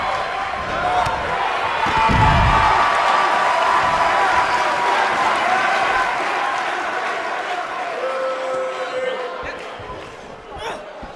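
A wrestling arena crowd roars and applauds steadily throughout, a broad wash of cheering and clapping with a thud near the start, while a commentator talks over it.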